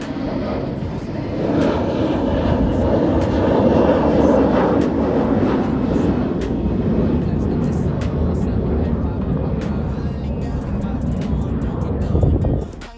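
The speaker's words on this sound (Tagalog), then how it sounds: "Kaya every now and then mayroong lumilipad na mga aeroplano." An airplane flies low overhead near Laguindingan International Airport. Its engine roar swells and then holds steady, loud and close, for most of the clip, with faint talking in the background.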